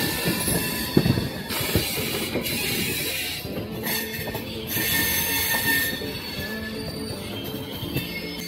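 A Visakhapatnam train on the Brahmapur line rolls along with steady, loud wheel-on-rail roar and high metallic squealing that swells and fades in bursts, heard from inside with no voices.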